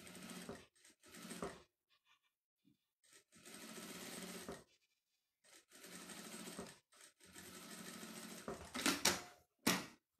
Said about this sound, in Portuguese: Já vou passar uma costurinha aqui também, que é para prender esse debrum no plástico.